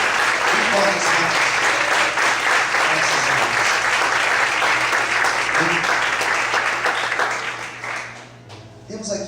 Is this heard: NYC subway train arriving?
no